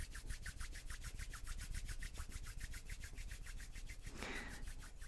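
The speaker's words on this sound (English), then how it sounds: "rub your fingers, your hands together" Hands and fingers rubbing together briskly in a steady, rapid back-and-forth rhythm, close and fairly loud, alone with no talk, during a guided breathing meditation.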